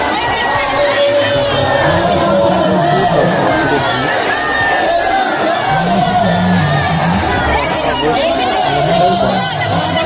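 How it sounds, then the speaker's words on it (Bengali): A dense crowd of visitors at a Rath chariot festival in Hooghly district, a steady loud hubbub of chatter and scattered shouts filling the whole stretch. "ও প্রচুর দর্শনার্থীদের ভিড় হচ্ছে।"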